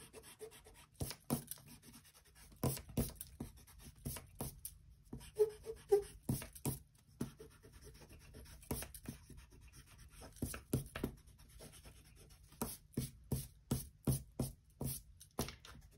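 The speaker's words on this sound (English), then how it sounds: "you can go back and erase those just so that they are gone" Pencil marks are erased on paper: quiet, close, intermittent rubbing strokes come in short bursts with brief pauses, over a faint steady background hum.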